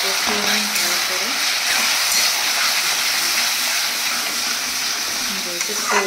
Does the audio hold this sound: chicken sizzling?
yes